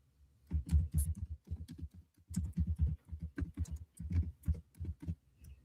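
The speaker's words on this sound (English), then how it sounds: "Typing." Steady bursts of typing on a computer keyboard, close and clear, with rapid clicking key presses grouped into runs separated by short pauses.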